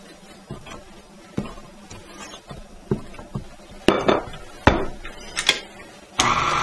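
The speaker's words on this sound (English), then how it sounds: "Scrape your mixer down a little bit on the sides and the bottom." A utensil scrapes down the sides and bottom of a mixer bowl during cookie dough prep, sounding as irregular knocks, taps and scrapes that grow louder and denser toward the end, ending in a brief sustained rasp.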